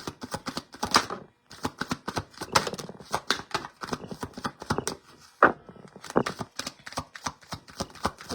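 Tarot cards are shuffled by hand in a quick run of crisp, close riffling bursts with brief pauses between them.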